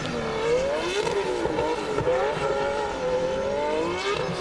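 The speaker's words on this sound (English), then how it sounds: "Love the noise that those Winters diffs make as well." Drift cars fitted with Winters differentials and straight-cut gearboxes at a Hampton Downs drifting championship qualifying round: a sustained mid-distance engine drone with wavering pitch and gear whine, rising and falling continuously with no talk over it.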